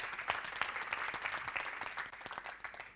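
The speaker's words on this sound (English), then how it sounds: "give Greg a round of applause" A crowd applauds steadily throughout, a dense wash of many hands clapping at moderate distance, with no voices standing out.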